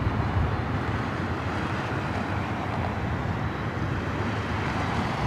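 An airliner arriving at LAX airport gives off a steady, broad jet roar that holds at an even level for the whole stretch, with no voices over it.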